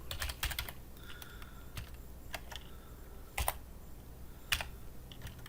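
Close computer keyboard typing while code is entered, bursts of quick keystrokes with short pauses and a few louder clacks, alone without talk.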